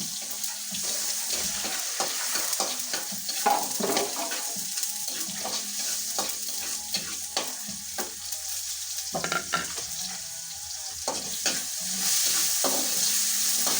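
Garlic sizzles and fries in a pan, a steady bright hiss with scraping stirs and occasional clinks running throughout, swelling louder near the end.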